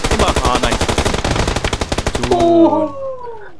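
Rapid automatic gunfire from PUBG Lite on the snowy Vikendi map rattles in a loud, steady burst of evenly spaced shots for over two seconds, then gives way to fading whining, whistling tones.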